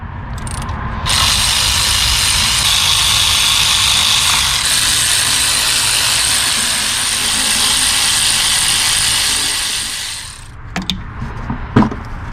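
A power ratchet spins off 10 mm bolts from the intake plenum of a 2003-2007 Infiniti G35. It gives a loud, steady, close whir for about nine seconds, then stops, leaving a few scattered clicks and knocks.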